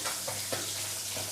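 Fish sizzles steadily in a hot frying pan, a close, continuous crackle with no voices.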